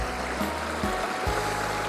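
Stream water rushes in a creek running through rice fields, in a steady, dense gurgling wash with no voices.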